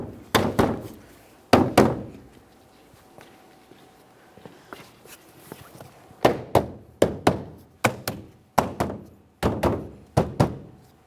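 A series of sharp snaps and thunks as plastic push clips are pressed into a 2015-2019 Subaru Outback door panel, scattered at first, then a quick run of evenly spaced firm pops, close and loud.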